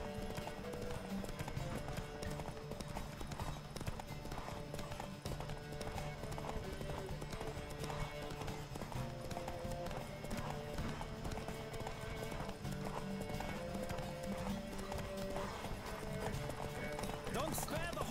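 Rapid, rhythmic hoofbeats of a galloping horse in the video game The Witcher 3 drum steadily throughout, with voices talking over the top.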